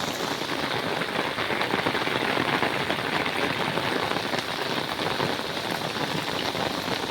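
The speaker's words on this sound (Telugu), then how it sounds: "కుండపోత వర్షాలు పడుతున్నాయి" Heavy torrential rain pours down in Hyderabad, a dense, steady roar of drops hammering surfaces nearby, unbroken and loud throughout with no voices.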